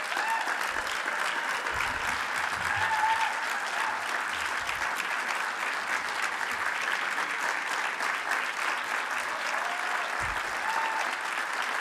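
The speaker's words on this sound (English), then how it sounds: "And everyone give him a round of applause." An audience at a legislator conference applauds Reverend Brandon Mauai, a dense, steady wash of clapping from many hands that holds evenly from start to finish with no speech over it.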